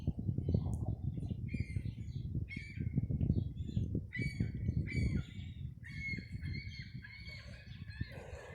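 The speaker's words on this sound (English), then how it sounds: "Fucking seagulls." Seagulls call outdoors, a series of short harsh squawks and cries scattered through the clip over a low rumbling background.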